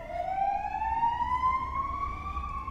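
Alarm siren sounding outside, a steady rising electronic wail held throughout and heard alone without voices.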